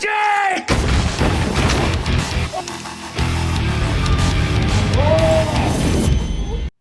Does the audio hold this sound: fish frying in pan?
no